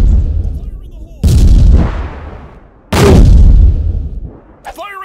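Artillery strikes in the Ironsight video game land as two heavy, booming blasts a couple of seconds apart, each a sudden loud crack that rolls off in a long fading rumble.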